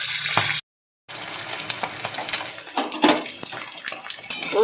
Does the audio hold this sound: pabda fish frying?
yes